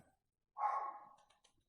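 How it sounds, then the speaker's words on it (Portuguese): A single dog bark rings out once, fairly faint and with a drawn-out tail, followed by a few tiny clicks in an otherwise quiet room. "cachorro infernal"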